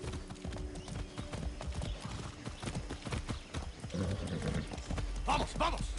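Horse galloping in the video game Far Cry 6, a steady quick clip-clop of hooves with a whinny near the end, under a man's speech.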